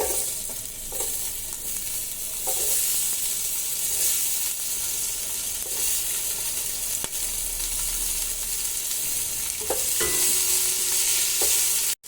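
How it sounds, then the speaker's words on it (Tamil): Onions frying in a pan with cloves and curry leaves for mushroom biryani, a steady loud sizzle with stirring scrapes throughout and no talk. "இப்போ கொஞ்சம் வெங்காயம் போடும்."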